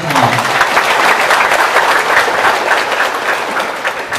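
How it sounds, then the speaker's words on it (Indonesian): Sustained applause from an audience at an Islamic religious gathering marking Isra Mi'raj, a dense, steady wash of clapping lasting throughout with no talk over it. "Tepuk tangan paling indah buat ayah ibu kita semua"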